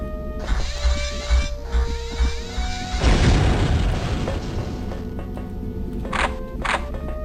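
Grenade launcher blasts in the game The Terminator: Future Shock, a loud booming explosion in the middle with crackling debris, set among clanking mechanical game sounds, and a couple of short pops near the end.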